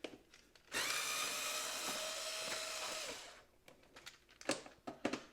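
A Yamaha Vino 50cc scooter's seat screws being backed out with a Phillips screwdriver or 8mm driver, a loud steady whirring power-tool run lasting a few seconds, then scattered clicks and knocks.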